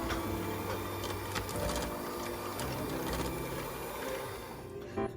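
Electric mixer beating butter and sugar at high speed in a bowl, a steady whirring mechanical drone with rattling ticks from the beaters, close and continuous throughout.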